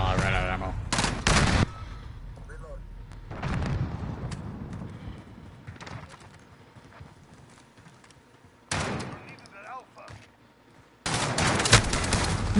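Gunfire in a PlayStation shooter game comes in short bursts separated by quieter stretches, loud and close, with scattered sounds and a player's voice in the gaps.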